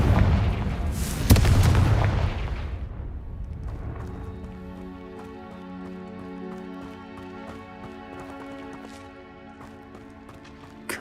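A Confringo fire explosion spell bursts in Hogwarts Legacy, a loud booming blast with crackling debris that fades into a lingering tonal hum of the game scene.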